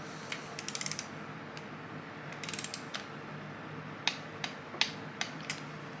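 Socket wrench on a 5/8 socket ratcheting a bolt on a Cobra engine's cam during a timing gear install, rapid bursts of clicks followed by several single, close, sharp ticks.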